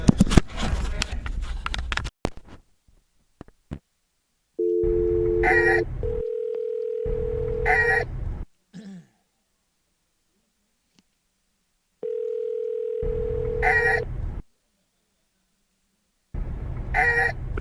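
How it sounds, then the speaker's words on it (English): An outgoing telephone call is placed: after a burst of clicking and handling, steady tones alternate with loud ringback bursts in a repeating on-off pattern, close and clear with no talk. "I will be calling phone number area code 407"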